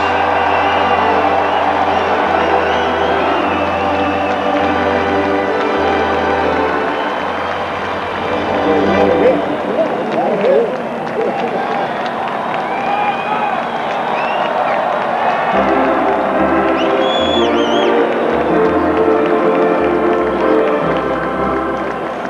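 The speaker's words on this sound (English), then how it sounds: "Let's have a round of applause for number 17, Mark Grace." A large baseball stadium crowd at a Chicago Cubs home opener against the Atlanta Braves roars and applauds, a sustained wash of cheering with deep rumbling underneath that swells midway and carries on throughout.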